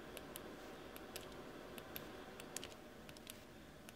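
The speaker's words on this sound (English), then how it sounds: "the Gluss Pusher acts as a linear stepper motor, which provides half-inch resolution using two coils." Small, faint, irregular clicks and ticks come from a Gluss Pusher linear stepper motor with two coils, driven by an Arduino with a motor shield on 12-volt power, over a quiet background hiss.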